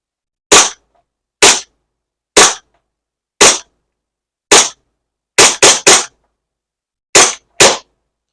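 A SAR9 gas blowback airsoft pistol fires nine sharp, loud cracks, mostly spaced about a second apart, with a few quick doubles, with silence between shots and no talking.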